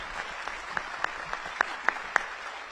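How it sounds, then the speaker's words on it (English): Sparse, scattered clapping from a debate audience, a handful of distinct claps spread across a few seconds over a quiet room hum, fairly thin rather than a full ovation. "Now, please join me with a round of applause."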